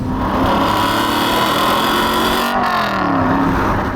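An Aston Martin V8 Vantage GT4 engine revs hard nearby, its pitch rising and falling in a throaty, sustained howl.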